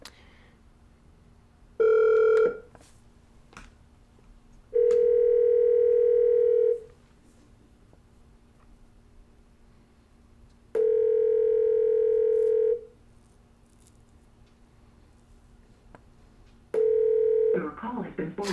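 An outgoing telephone call rings through on a speakerphone: four long repeated ringback tones with gaps of quiet between, clear and moderately loud, ending as a recorded voice begins.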